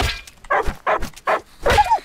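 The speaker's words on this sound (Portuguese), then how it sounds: "Ah, não, cachorro!" A dog attacking in a survival video game makes a quick run of sharp barks and yelps, four or five close, loud bursts within about two seconds, with some scuffling impact.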